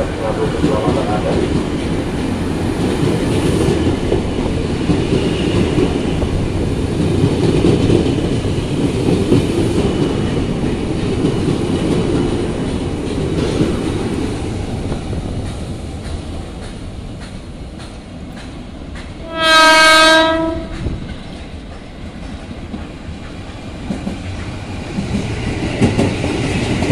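A JR 205 KRL commuter train departs Manggarai station, with a steady rolling rumble and clatter of the cars throughout and a loud, sustained horn blast near the end.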